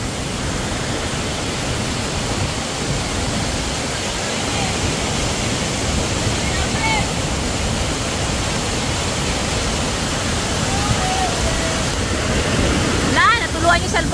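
Anthurium Falls in Famy, Laguna, swollen with rain, roars steadily and close throughout. A few faint chirps and small noises sit on top near the end.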